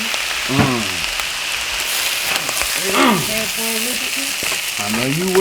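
Rice frying in a pan in a home kitchen, a loud steady sizzle throughout, with a voice singing or humming over it at moments.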